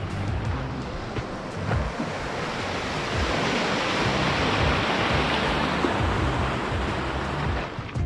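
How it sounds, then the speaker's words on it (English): A river rushes steadily past a trail crossing in Coyote Valley, Rocky Mountain National Park, a close, loud, continuous broadband roar with no voices over it. "not far into the trail we come to this little crossing of the river"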